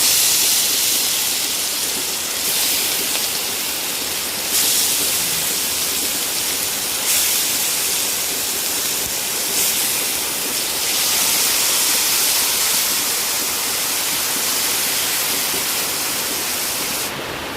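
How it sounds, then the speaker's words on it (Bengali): Marinated hilsa fish frying in oil in a wok, a loud, steady sizzling hiss that continues unbroken with slight swells in intensity, without any talk. "এবার মাছগুলোকে কড়াইতে দিয়ে দেব।"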